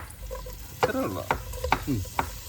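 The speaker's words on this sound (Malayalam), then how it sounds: "ഇനി സവാള നമ്മൾ നേരത്തെ അരിഞ്ഞു വെച്ച് സവാള കുറച്ചിടാം." Chopped onions sizzle in hot ghee while a spoon scrapes and stirs the pan in several quick, uneven strokes.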